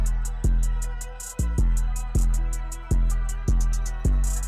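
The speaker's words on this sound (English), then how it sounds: "the hi-hat pattern and the 808 and the sample at the same time sound like this" Trap beat made in FL Studio, with a rapid ticking hi-hat pattern over deep booming 808 bass notes and a tonal melodic sample layered together, loud, steady tempo, no talk.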